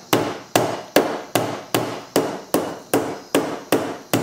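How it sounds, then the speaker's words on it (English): Metal pliers strike the back of a screwdriver to crack open a light bulb for a recycled vase, giving ten sharp, evenly spaced whacks, each a loud close knock with a short ringing decay. "I've just been using the back of my pliers, and just give it a couple good whacks"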